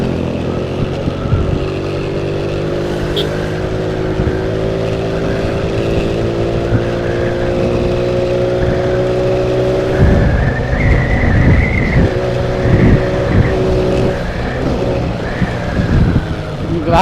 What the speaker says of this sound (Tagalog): Ganyan katikas yung motor na to.